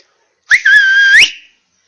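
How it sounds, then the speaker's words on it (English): A single loud, sharp two-finger whistle, rising then holding a piercing high tone for under a second before sliding up and cutting off. "He could whistle very loud on 2 fingers."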